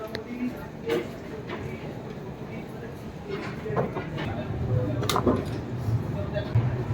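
A Sealdah Puri Duronto Express train rolling into Bhubaneswar station, a low rumble with clanks and metallic knocks that grows slightly louder, while people talk nearby.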